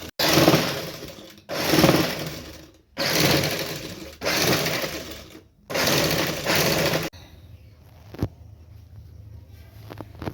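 A sewing machine stitches a folded finishing strip onto a backless halter blouse, running in five loud bursts of about a second each, separated by short pauses, then falling quiet with a faint click.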